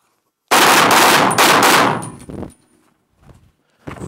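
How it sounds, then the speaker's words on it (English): Pistol shots fired in quick succession while shooting around a barricade, loud and close, a sharp burst of rapid reports followed by fainter trailing impacts and a final shot. "But make sure you fire that last shot before you step out."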